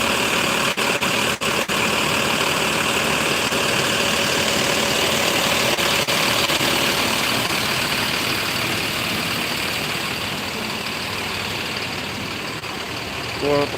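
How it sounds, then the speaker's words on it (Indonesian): An ALS intercity bus idles in a depot in Pekanbaru with a continuous, heavy engine drone that stays loud and even throughout. Faint voices sound now and then over it. "nah, itu mesinnya di dalam."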